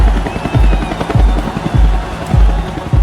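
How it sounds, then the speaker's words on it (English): A military helicopter flying close by, with loud, regular rotor thumps about twice a second over a steady engine whine. "The military sends a helicopter to pick up Chavez."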